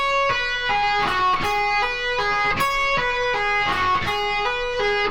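A seven-note electric guitar lick is played slowly and cleanly, with distinct stepping notes repeating in a steady pattern and no talking.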